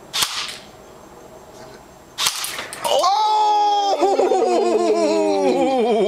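Airsoft gun firing on full auto outdoors, sharp close pops bursting in quick succession, with people talking and laughing around it.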